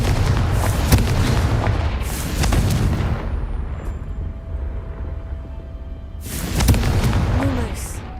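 Confringo fire spell blasts in Hogwarts Legacy: loud, booming explosions with crackling, rumbling tails, two close bursts early and another near the end, separated by a quieter stretch of ambient game noise.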